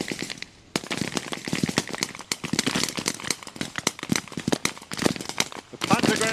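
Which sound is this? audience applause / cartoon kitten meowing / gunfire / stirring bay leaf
gunfire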